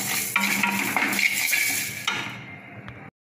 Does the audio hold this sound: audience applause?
no